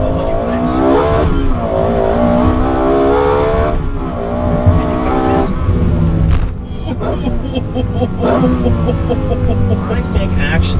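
A Lexus LFA's engine revs loud and close in sport mode, its throaty pitch climbing and dropping through single-clutch gear changes, continuous for the whole stretch.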